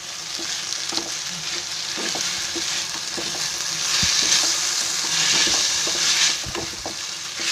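Fenugreek seed vegetable (methi dana bhaji) sizzles steadily in a pan as it cooks, with close, repeated stirring scrapes over a constant frying hiss.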